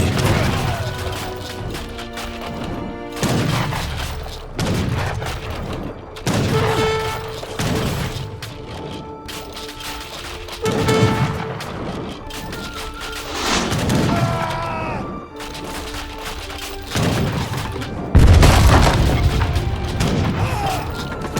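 Bombard cannons in the video game Age of Empires III firing in a battle, heavy booming blasts every couple of seconds with crashing impacts, over a continuous orchestral music score.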